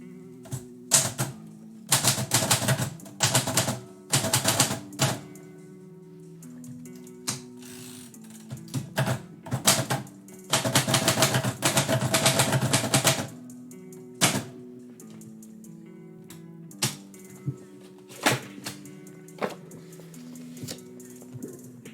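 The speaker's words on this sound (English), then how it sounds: "So this was a repaired typewriter." Bursts of rapid mechanical keystrokes and carriage clatter from a repaired manual typewriter with a hard platen and gummed-up keys, coming in several flurries separated by pauses, close and fairly crisp.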